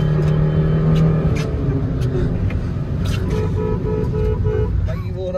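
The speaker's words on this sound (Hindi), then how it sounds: "इस बार मैं बजाता हूँ हॉर्न" Horn of a Vitara Brezza car toots as the car sits ready for a drag race against a Ford EcoSport in the rain, heard over steady engine and outdoor noise.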